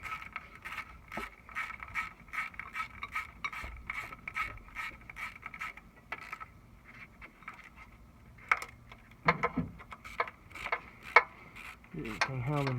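Bolts being run in on a water pump with a ratchet, a quick series of light metallic clicks in bursts, with a few louder clanks and scrapes.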